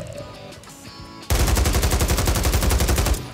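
Rapid automatic gunfire in a first-person shooter video game played on a controller, a loud sustained burst of evenly spaced shots lasting about two seconds after a quieter stretch of game ambience.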